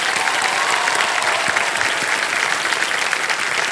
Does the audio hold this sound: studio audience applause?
yes